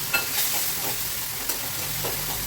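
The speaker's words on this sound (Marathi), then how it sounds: "आता हे सगळं छान असं तेलामध्ये मिक्स करून घेऊन तेल सुटेपर्यंत थोडा वेळ भाजून घ्यायचा" Spice paste mixed with a spoonful of yogurt frying in oil for an eggplant dish, giving a steady close sizzle with soft stirring scrapes and a few light clicks, no voices.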